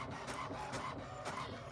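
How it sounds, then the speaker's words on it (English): An inkjet printer prints a sheet of DTF transfer film, a steady mechanical whir with the print head sweeping back and forth in regular rasping passes, close up and with no talk over it. "my DTF transfer film is printing out here on my inkjet printer"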